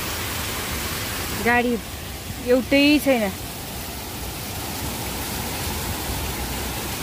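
Heavy rain pouring down outdoors, a steady broadband rush throughout, briefly overlaid midway by someone speaking a few words.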